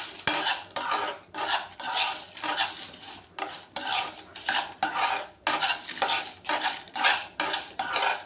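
Byadagi red chillies frying in a pan for mango pickle, stirred with a metal spoon in rhythmic scraping strokes about once a second, loud and close, with a faint sizzle underneath.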